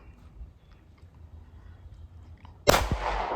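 A single sharp, loud 9mm handgun shot cracks out near the end, after a stretch of low, steady background noise, leaving a brief ringing decay.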